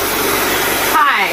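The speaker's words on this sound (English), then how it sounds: "Awesome hair dryer. I love it." A Bopcal high-speed hair dryer blows steadily on a high setting, a dense continuous whoosh, with a voice talking briefly near the end.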